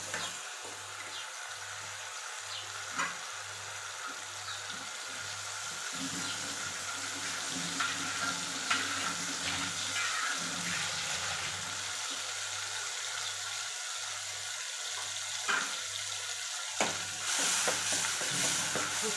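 Peas and leaves cooking in a pan for pav bhaji make a low, continuous sizzle, with stirring and scraping strokes recurring through it, close and moderately loud with no voices.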